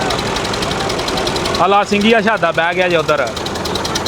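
A tractor engine runs at a tractor pulling contest, a steady low rumble and rattle heard throughout while someone talks loudly over it for much of the clip.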